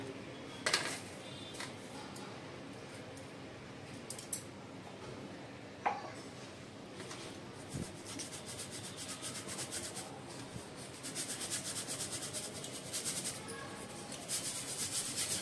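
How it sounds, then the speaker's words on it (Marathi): Soft continuous rubbing and rasping of a sieve being shaken and scraped as finely ground flour is sifted, with occasional light taps, growing busier toward the end. "आता आपण हे चाळणीने चाळून घेऊया"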